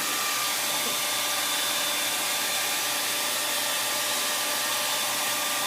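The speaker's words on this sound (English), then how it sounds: "the hair dryer's doing the work on it" A hair dryer blows continuously on a painting, a loud, steady airy roar with a faint motor whine that never changes pitch.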